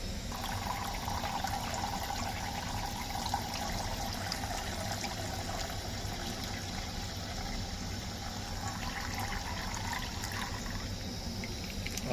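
Water pours steadily into a pot to make tea at an outdoor spot in a forest area of Odisha, a continuous trickling wash over faint background hum, with no talking.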